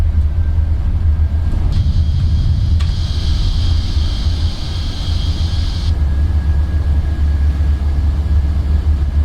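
Thrust reversers deploying on a PMDG 737 during a crosswind landing in a flight simulator: a loud, steady low engine roar with a brighter whine rising for a few seconds mid-clip, alone without talk.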